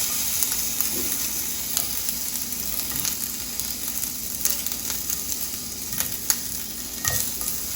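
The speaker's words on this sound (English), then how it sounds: "And I'm just going to start putting my onions in, breaking them up into little pieces." Onions fry in a hot pan coated with cooking spray for beef fajitas, a close, steady sizzle broken by light irregular clicks and scrapes as the pieces are stirred.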